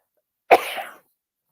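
A single sharp sneeze from a person in the middle of a sneezing fit: one loud, close, explosive burst lasting about half a second, with silence before and after.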